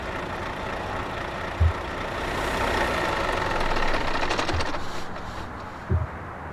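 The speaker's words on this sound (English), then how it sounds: "Engine." Truck engine in Euro Truck Simulator 2 multiplayer, a steady low rumbling drone that swells slightly midway, with a few soft thumps, no voices.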